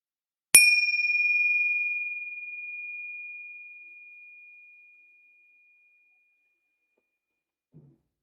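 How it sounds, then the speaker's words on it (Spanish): A single small meditation bell strikes once, a clear bright ring that sustains and slowly fades over several seconds into silence, with a faint soft knock afterward. "cuando escuches el sonido de las campanillas"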